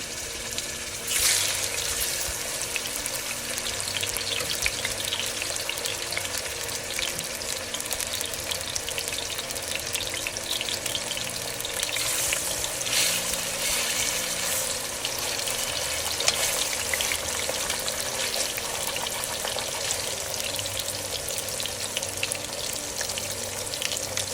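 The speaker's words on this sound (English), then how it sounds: "Fry your meat on both sides." Meat frying in a pan gives off a steady, broad sizzle that runs without pause, with occasional brighter spits and crackles and a faint watery hiss underneath, close and moderately loud.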